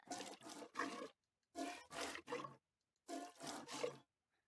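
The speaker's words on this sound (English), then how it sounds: "the player milking a regular goat." Three clusters of quick, rough squirting bursts from milking a regular goat in Minecraft, about three per cluster, separated by brief pauses.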